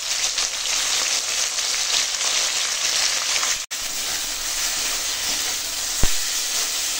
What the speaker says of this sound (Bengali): এখন মাছ ভেজে নেব, ভোলা মাছের ঝাল হবে।